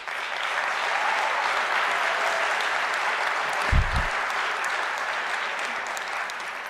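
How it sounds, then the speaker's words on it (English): Graduation ceremony audience applauding the academics at a university, dense sustained clapping from a large crowd with a brief low thump midway. "Can we give an applause to our academics?"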